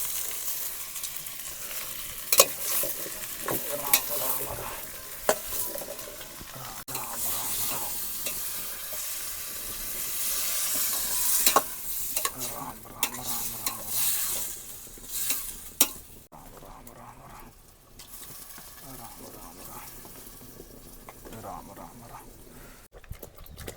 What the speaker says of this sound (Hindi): ये दोस्तों महाराज जी की सब्जी प्रसादी पकने लगी।